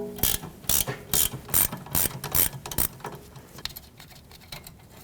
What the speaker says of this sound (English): You can stick a wrench or a socket and ratchet down there and try to break this free and remove